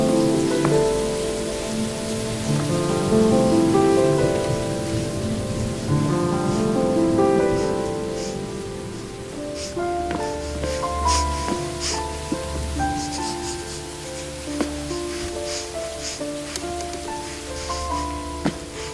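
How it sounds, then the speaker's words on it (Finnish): Autumn rain patters in a steady, soft hiss with scattered drop taps, running continuously beneath gentle melodic music. "Syksyllä tuuli kohisee ja sade ropisee."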